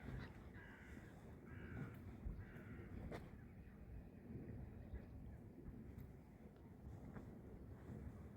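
Crows cawing by Lake Drawsko near the Czaplinek marina, with three distinct harsh caws in close succession early on over faint wind and water ambience.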